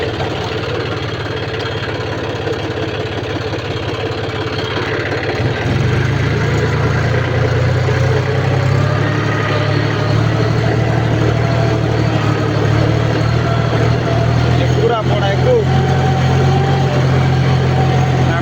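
An auto carrying a load of road soil strains its engine climbing an embankment, a loud, continuous close engine drone that deepens and grows heavier partway through as it pulls, with no talking over it.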